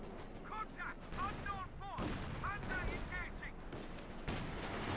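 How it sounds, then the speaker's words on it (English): An artillery barrage fires in the Company of Heroes 2 video game, a string of booms and blasts mixed with other battle effects while a commentator talks over the action. "it's actually now using searing artillery"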